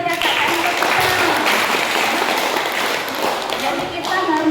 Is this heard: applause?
yes